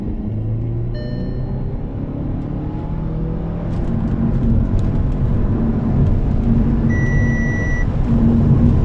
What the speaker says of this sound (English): First gear, second gear, third gear. Let's push it.